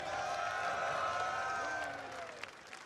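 Watch party crowd at an EVO fighting-game event cheering and applauding in a sustained wash of noise, loud at first and easing off toward the end.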